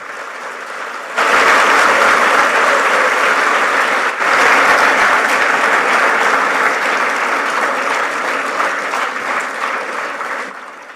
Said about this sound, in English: may I request all seated in the audience to give a standing ovation